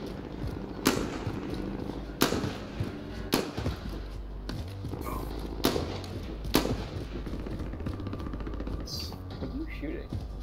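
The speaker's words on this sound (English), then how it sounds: "I'm shooting my M4 at them" M4 rifle fire in the video game Warzone, sharp single and short bursts of shots cracking at irregular intervals over a low rumbling game backdrop.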